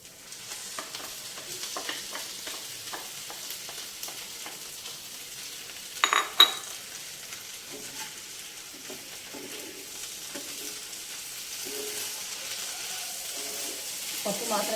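Toor dal stirred into cooked ridge gourd in a pan, faint soft sizzling with scattered light scrapes of a spoon, a brief louder clatter near the middle, and low talk in the background.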